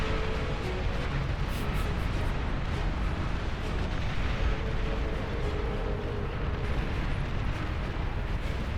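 Bombers and plasma cannons in the strategy game Beyond All Reason set off a dense, continuous rumble of overlapping explosions and booms, loud and unbroken throughout with scattered sharper bursts on top.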